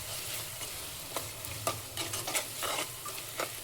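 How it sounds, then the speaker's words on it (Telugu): Ginger garlic paste sizzles and fries in a hot pan for a chicken haleem, with scraping stir strokes from a large spoon breaking through the steady crackle; close and fairly quiet, no voices. "ఇప్పుడు దీంట్లోకి అల్లం వెల్లుల్లి పేస్ట్ వేసుకుందాం. పెద్ద స్పూన్తో 1 స్పూన్ అల్లం వెల్లుల్లి పేస్ట్ వేస్తున్నాను. ఇది ఫ్రై అవ్వాలి."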